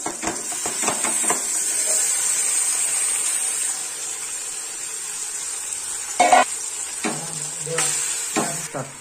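Chicken pieces sizzle and fry in hot masala inside a pressure cooker for biryani, a steady loud hiss broken by a few clattering stirs and spoon knocks near the start and again toward the end.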